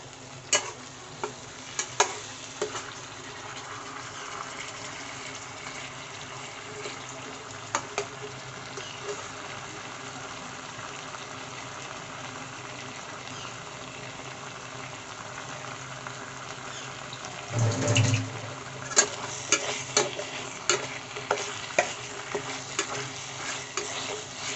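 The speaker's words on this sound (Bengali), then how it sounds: "এবার আরও ভালোভাবে কষিয়ে নেবে।" Spices with salt and turmeric sautéing for a mustard-oil fish curry in a village kitchen, a steady low sizzle with scattered scraping stir clicks and a louder burst of stirring near the end.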